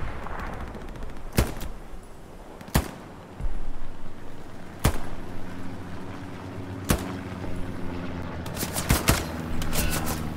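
Sharp, loud gunshots ring out from a machine gun in the video game Hell Let Loose, about a half-dozen separated bursts across the span, with a closely spaced cluster near the end over a battlefield background.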